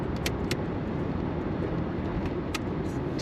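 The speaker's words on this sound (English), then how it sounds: "We're doing 55 miles an hour per the speedometer, and it is a nice, smooth ride." Steady low road rumble inside a 1984 Buick Electra Park Avenue cruising at 55 mph on a smooth ride, with a few faint ticks over the constant drone.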